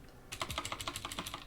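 Keys clatter on a computer keyboard as a search is typed in Kali Linux, a quick run of about a dozen close, crisp clicks in an uneven rhythm after a brief quiet start.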